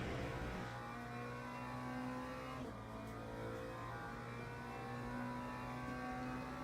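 A McLaren race car engine in the sim racing game Le Mans Ultimate at Bahrain drones steadily at a fairly constant pitch, with a brief shift in tone partway through, heard faintly and continuously without talk.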